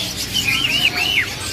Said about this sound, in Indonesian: Burung udah bunyi.